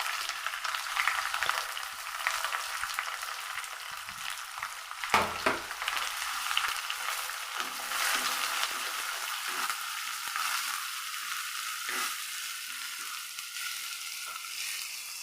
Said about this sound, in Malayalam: ഉള്ളി നല്ല പോലെ ഒന്ന് വഴണ്ട് വരണം